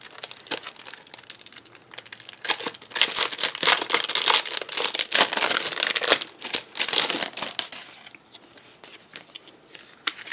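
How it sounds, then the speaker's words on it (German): Golden stickers being unwrapped from crinkly plastic packaging, a close, busy run of crumpling and crackling that swells in the middle and eases toward the end, with no talk. "Und dann gibt es passend dazu noch goldene Sticker. Die packe ich natürlich auch mal aus."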